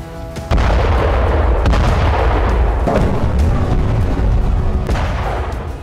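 Bomb blasts in wartime Bakhmut, Ukraine: a sudden loud boom gives way to a sustained, heavy rumbling roar with scattered cracks and thuds, dense and continuous throughout.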